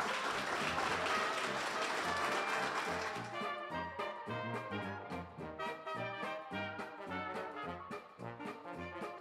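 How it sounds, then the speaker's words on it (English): A crowd at a Model T clinic applauds the presenters, a short burst of clapping that fades after a few seconds as music with a steady beat takes over. "just one more round of applause for them and thank them"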